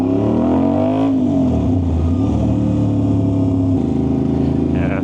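Aprilia RS660 motorcycle ridden in third gear in its softest commute mode with a choppy throttle, its engine note droning loud and steady with pitch dips and rises as the throttle shifts.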